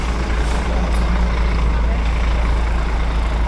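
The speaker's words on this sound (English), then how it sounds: "This is our bus." A large passenger bus idles in Cambodia before boarding, its engine giving a steady, close, low rumble that holds unchanged throughout.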